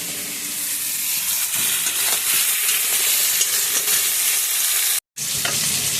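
Loud, continuous sizzling of eggplant and potato frying in oil, with stirring and spatter, briefly cutting out near the end before resuming.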